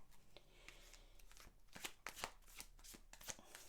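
Tarot cards being shuffled up close, a run of soft riffling flutters and papery snaps that grow denser and sharper partway through, with no voices.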